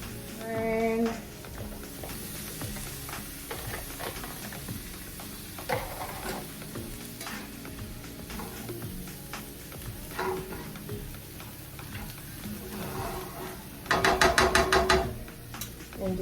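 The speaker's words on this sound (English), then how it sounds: "just letting that simmer off" Homemade pizza sauce simmering in a pan, with a low continuous sizzle and bubbling heard close up, occasional utensil clicks, and a short burst of rapid tapping near the end.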